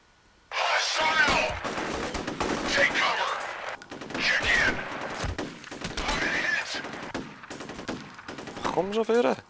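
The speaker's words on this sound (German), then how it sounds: "Jetzt habe ich auch gehört, dass nur Sperrfeuer war." Rapid suppressing gunfire in the shooter game F.E.A.R., long bursts of automatic fire rattling almost without pause, with a few short gaps and voices heard amid the shooting.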